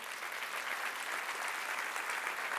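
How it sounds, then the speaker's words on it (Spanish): Congregation applauding during a Spanish-language church service, a steady wash of clapping hands that holds at an even level for the whole stretch with no speech over it. "denle un aplauso al Señor"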